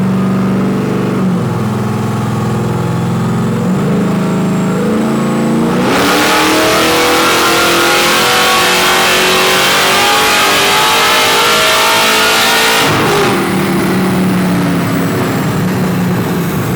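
A Chevy C10 squarebody engine revs hard several times, then holds a long, loud, rising scream up to a raised rev limiter before dropping back, close and steady with no talk.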